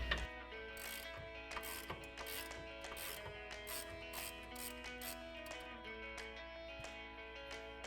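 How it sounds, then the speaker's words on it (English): Ratchet wrench with a 24mm socket working the nuts that hold the bumper of a Ford F-150, a steady run of close, rapid clicking that carries on unbroken. "to do that, we're going to use our 24mm socket"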